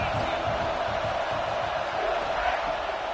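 A stadium crowd roars continuously in College Football 26, a dense, steady wash of cheering at a fairly loud level, with faint commentary voices.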